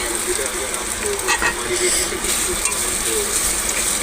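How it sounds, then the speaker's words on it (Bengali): Grated ginger paste fries with green banana pieces in a pan, a steady close sizzle with occasional stirring scrapes, a voice talking over it. "ভালো করে এই আদাটাকে আমি একটুখানি এটাকে ভেজে নেবো"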